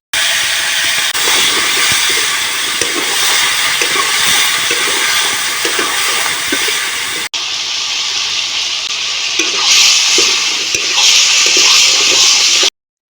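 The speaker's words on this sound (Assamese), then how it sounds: "এইপিনে মই আলু আৰু মটৰখিনিও ধুনীয়াকৈ ভাজি ল'ম" Potatoes and peas frying in oil in a pan, an even, loud hiss of sizzling that runs steadily throughout and grows brighter and sharper in the second half, with no talking.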